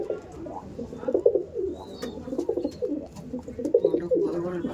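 Soft, repeated coos from Kalanka pigeons bubble along continuously, several birds murmuring close by in a loft with no talking.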